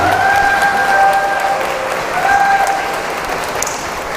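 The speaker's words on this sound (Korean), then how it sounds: "박수 부탁드리겠습니다" Wedding guests applaud the bride and groom's bow to each other at a Korean wedding hall, a dense, steady clapping that runs the full length, with a sustained musical tone underneath.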